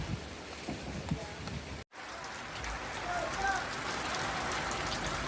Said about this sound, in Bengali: কত সুন্দর বৃষ্টি পড়ছে